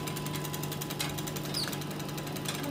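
A chocolate enrobing machine with an air blower runs continuously with a rapid, even mechanical rattle and a steady hum, close by and without talk.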